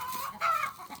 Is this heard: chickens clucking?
yes